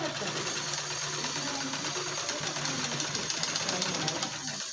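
A sewing machine stitches piping onto fabric at a quarter-inch gap, a rapid steady mechanical chatter running close and continuous throughout.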